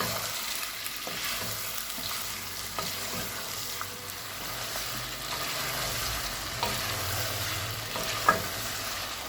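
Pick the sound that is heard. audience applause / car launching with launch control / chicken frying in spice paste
chicken frying in spice paste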